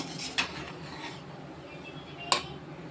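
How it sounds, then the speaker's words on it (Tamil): Spoon scraping against a pot while semiya (vermicelli) kichadi is stirred over a low flame, two brief clinks standing out over a soft, steady background rustle. "இப்போ நம்ம வந்து கிண்டி விட்டு பார்ப்போம்"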